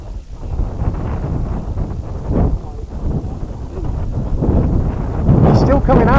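Strong outdoor wind of roughly 30 to 40 miles an hour buffets the microphone with steady low rumble and gusts, while people talk over it at a field where a bird of prey flies alongside a radio-controlled glider.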